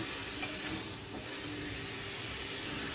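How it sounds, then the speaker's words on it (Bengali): Raw tomato, potato and spices being stir-fried in a pan for an amudi fish dish, a soft continuous sizzle and hiss with faint occasional spatula scrapes. "কাঁচা টমেটো দিয়ে আমি আবারও ভালোভাবে সব কিছু ভালোভাবে কষিয়ে নিচ্ছি।"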